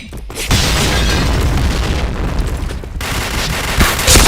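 A grenade explodes in a shooter video game, a loud, close, rumbling boom that swells and sustains for a few seconds, followed by further blasts and crackling.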